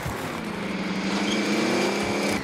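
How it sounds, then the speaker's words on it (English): A car approaches in Call of Duty: Warzone, its engine a steady, rising drone that grows closer over a couple of seconds and plays alone with no talk. "There's a car coming coming this way"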